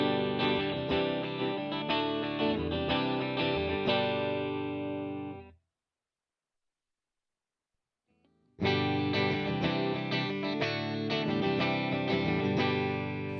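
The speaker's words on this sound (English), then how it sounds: "this is what it sounds like with a 410 Spring reverb cabinet" An electric guitar through a 410 spring reverb cabinet rings out in sustained, heavily effected chords with a washy reverb tail, cuts to silence for a few seconds, then resumes.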